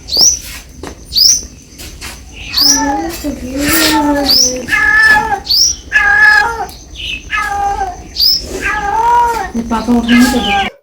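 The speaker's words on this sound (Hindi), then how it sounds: "इसी तरह से म्याऊँ-म्याऊँ कर रही है" Repeated cat meows, several in a row with short gaps, fairly loud and close, with some higher chirpy calls mixed in.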